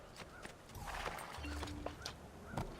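Steady horse hoofbeats clip-clop at a walking pace, close by, with a brief low rumble in the background, in the video game Assassin's Creed II.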